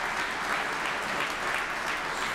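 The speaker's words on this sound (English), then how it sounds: "Let's give one more round of applause." Audience applause at a mayoral swearing-in ceremony in the City of Poughkeepsie, a steady, fairly soft patter of many hands clapping throughout, heard alone without talk.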